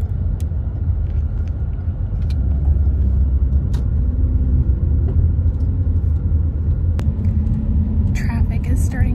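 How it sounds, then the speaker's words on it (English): Steady road traffic rumbles low and continuous, with a constant engine drone and occasional faint clicks and rustles close by. "Traffic is starting to let up a little bit"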